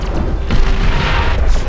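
Heavy booming blasts from nuclear missile strikes in the real-time strategy game Beyond All Reason, a deep rumbling detonation swelling after half a second into a sustained roar of overlapping explosions.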